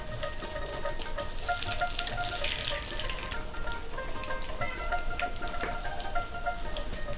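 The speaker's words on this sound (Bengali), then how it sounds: "আর লাল করে একটু ভাজবো" Night jasmine (shiuli) leaf fritters frying in hot oil, a steady bubbling sizzle with faint crackles, continuous and moderately close, no talking.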